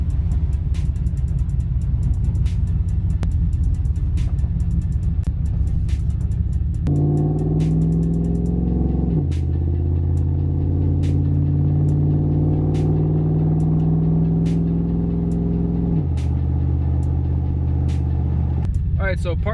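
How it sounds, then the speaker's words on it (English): The truck Goldie Hawn, fitted with a wideband air/fuel gauge, drives along with a low, loud engine drone whose pitch steps up and drops with shifts, accompanied by steady faint ticking clicks. "let's take the truck for a drive and see how it does there"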